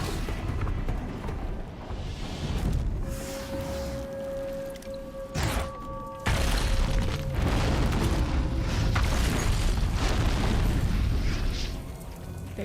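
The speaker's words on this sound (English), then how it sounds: "They're just exploding on each other." Explosions erupt as robotic machines attack each other in Horizon Zero Dawn, a series of loud booms and bursts over a steady rumbling game soundscape, with a sharp blast midway and dense, continuous noise afterward.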